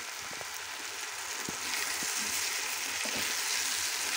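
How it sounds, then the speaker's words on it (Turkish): Sweet corn kernels caramelizing with onions in a hot pan give a steady, close sizzle and crackle, with a few soft clicks of stirring breaking through the frying. "Gördüğünüz gibi şöyle mısırlarımız soğanla kavruluyor."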